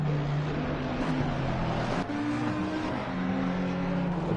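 A McLaren race car in a sim racing qualifying session at the Nurburgring, its engine droning loud and steady with shifting pitch as it accelerates and changes gear.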